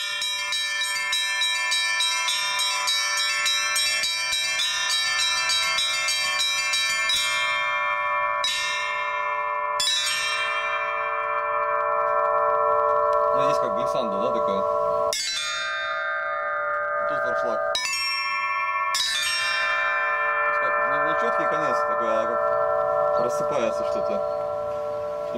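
Church bells cast by the Litex foundry in Moscow and the Shuvalov foundry in Tutaev peal at length, with rhythmic strikes over long ringing overtones and several pauses between bursts of ringing.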